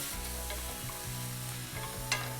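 Onions and mushrooms frying in a pan make a quiet, steady sizzle with soft stirring taps and a low background hum, ending with a small sharp clink, heard alone without voices.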